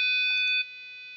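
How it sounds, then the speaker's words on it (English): A passive buzzer driven by a PIC16F877A microcontroller at 5 volts gives a steady, loud, high-pitched electronic tone that holds, then drops in level partway through and continues more quietly. "It is making a smooth beep with a delay of 1 millisecond."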